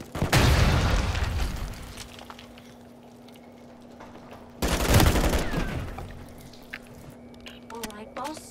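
Call of Duty gunfire in two loud, dense bursts, the first lasting about a second and a half and the second arriving a few seconds later, with a quieter stretch between them and some smaller pops near the end.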